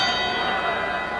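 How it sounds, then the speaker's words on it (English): A boxing ring bell signals the start of the second round at the Providence Civic Center during a 1978 bout, ringing as a bright, sustained clang amid a loud arena crowd wash. "The bell for second round action here in the Providence Civic Center"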